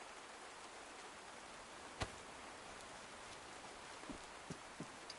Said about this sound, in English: so now we're just kind of waiting for the rain to stop